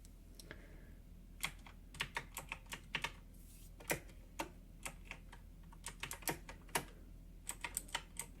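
Keys clatter on a computer keyboard during a whispered tuxedo-fitting roleplay, with sparse, irregular clicks close up and quiet, arriving alone in short bursts with gaps between.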